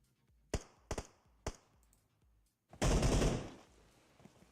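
Video game battle gunfire in a tournament grand final: three sharp separate shots, then a loud sustained burst of firing and explosive grenade noise that fades out, with no talking.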